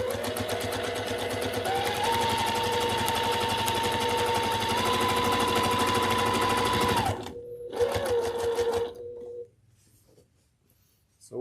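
Juki sewing machine stitching steadily over bulky pressed-open seams, a loud continuous whirring needle rhythm that runs for several seconds, pauses briefly, then resumes shortly before stopping.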